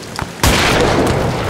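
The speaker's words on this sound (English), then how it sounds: "Explosions are cool," A loud explosion in the horror video game Amnesia: The Bunker bursts in suddenly after a quiet moment, then rumbles and crackles on steadily without fading.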